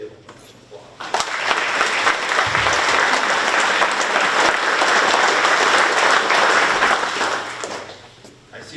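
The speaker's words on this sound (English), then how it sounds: "please give them an applause" An audience at a career center opening applauds the mayor and city commissioners, clapping swelling quickly after a brief quiet start, staying loud and dense for about seven seconds, then tapering off.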